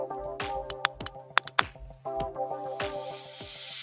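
Several sharp clicks in a quick cluster as a vlogging microphone's button is pressed three times, over steady background tones, with a brief electronic whoosh afterward; close and fairly clear, no talking.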